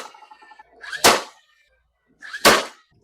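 A nail gun firing nails into shiplap boards, two sharp close pneumatic cracks about a second and a half apart, each preceded by a brief mechanical click and a short hiss.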